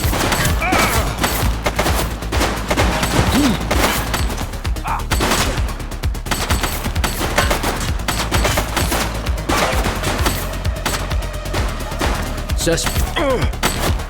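Rapid, sustained gunfire in a shootout from the video game The Precinct, dense bursts of shots and thuds rattling continuously and loud throughout, with shouted voices cutting in amid the shooting.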